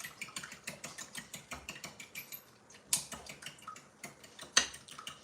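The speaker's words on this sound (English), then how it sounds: "So pop each yolk, and then we can whisk it together." Eggs, nine in all, being whisked for a bagel brunch: a fast, steady run of light metallic ticks from a whisk against the bowl, fairly close and moderately quiet, with a couple of sharper clinks.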